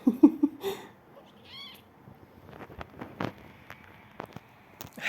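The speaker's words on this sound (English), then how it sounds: "These are my kittens." Several kittens meow nearby in short, high-pitched cries, a cluster of quick mews at first, then a longer call, followed by faint rustling and handling noises.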